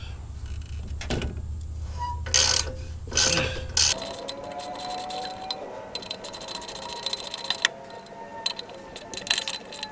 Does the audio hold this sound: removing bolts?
yes